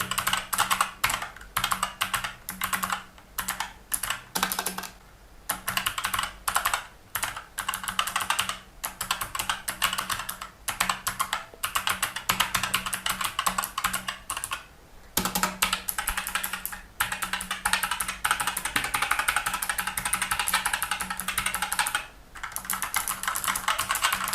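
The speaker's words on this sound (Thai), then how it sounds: "ผมลองพิมพ์ชื่อผมนะครับ" Loud, clacky keystrokes on a SIGNO KB-781 MAGUSTA mechanical gaming keyboard tap out in quick bursts with short pauses, close and crisp, no voices.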